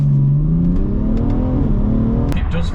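A tuned BMW 530d with a big turbo, intercooler and remap pulls hard under acceleration, its loud rising engine note heard from inside the car, with a faint sharp click near the end.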